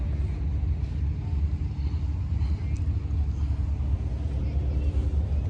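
An old John Deere 4020 tractor engine rumbles low and steady at an outdoor threshers reunion, close and continuous, with people talking nearby.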